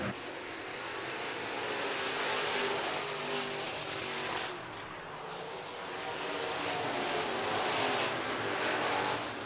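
IMCA Modified race cars roar down the front straightaway at RPM Speedway during Fall Nationals heats, a loud, continuous broadband engine wash that swells as the pack passes, eases briefly, then builds again.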